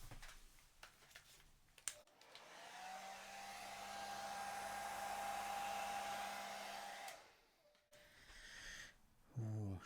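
Hair dryer blowing across wet acrylic paint in a Dutch pour, a steady whooshing roar that swells for several seconds then cuts off, with faint clicks and brief quiet talk around it.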